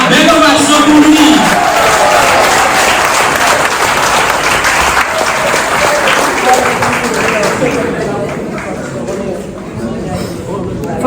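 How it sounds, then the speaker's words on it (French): A theatre audience in Trois-Rivières gives an ovation at a tribute event, with dense, loud applause mixed with cheers and crowd chatter that slowly thins and fades toward the end. "Voilà, belle ovation pour lui."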